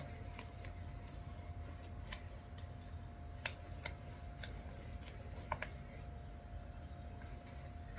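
A Security Bank Platinum Mastercard credit card mailer envelope is worked open by hand, with faint, sparse paper snips, crinkles and ticks scattered over a steady low background hum.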